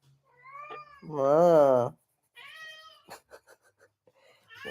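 A house cat yowls loudly and close by in one long, wavering, drawn-out meow, with smaller mews around it and a person speaking briefly alongside.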